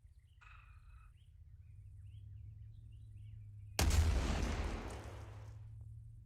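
An artillery gun in a video game fires at a 400-meter target: one sharp, loud boom with a decaying rumble, after a steady low hum and a faint bird chirp near the start.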